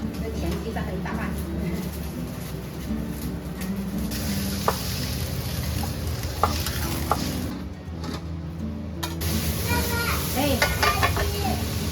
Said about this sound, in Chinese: 我要炒菜嘛